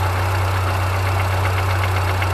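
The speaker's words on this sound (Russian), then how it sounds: "Весь двигатель у тебя стучит." A car engine with a knocking fault, a worn motor rattling as it idles, makes a steady close drone with a strong low hum and faint repeated taps over it, and no one speaks.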